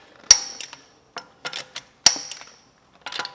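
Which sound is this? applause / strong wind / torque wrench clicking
torque wrench clicking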